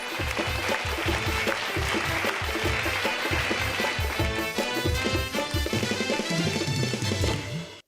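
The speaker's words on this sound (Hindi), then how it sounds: "जोरदार तालियां हो जाए फॉर पीके मस्त" Audience applause for comedian PK Mast on a Hindi comedy show, dense and steady at close range for about eight seconds, with a loud musical backing running underneath the whole time.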